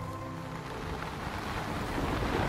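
A heavy downpour hisses as a steady broadband wash that swells slightly toward the end, with no voices.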